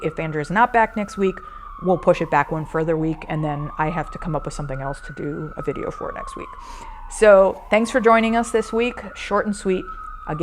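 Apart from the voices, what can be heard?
police siren passing outside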